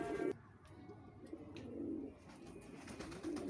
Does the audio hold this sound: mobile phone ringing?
no